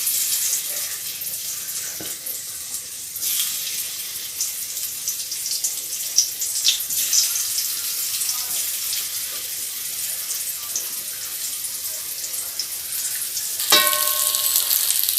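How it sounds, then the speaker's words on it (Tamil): Raw banana slices fry in hot oil with a steady, bright sizzle that hisses continuously, broken by a couple of faint clinks from a utensil near the pan. "வாழைக்காய் வறுவலுக்கு நம்ம கொஞ்சம் எண்ணெய் ஊற்றிடலாம். எண்ணெய் காஞ்சிருச்சு. நம்ம இப்போ ஒவ்வொன்றா போட்டுக்கலாம்."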